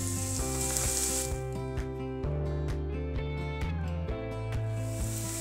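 Chopped medium onion with a pinch of salt frying in a pan, a steady close sizzle with faint stirring scrapes, no talking.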